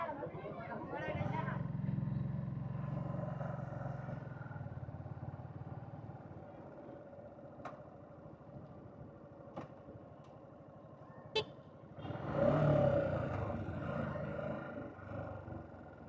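A Suzuki Gixxer SF 155 motorcycle rumbles steadily while being ridden, a low, continuous engine drone with wind noise that swells again near the end, as a person talks over it.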